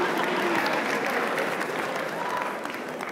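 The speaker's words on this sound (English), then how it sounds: "What are you applauding for?" Steady applause from a large conference audience, dense overlapping claps with some crowd murmur, holding level before easing slightly toward the end.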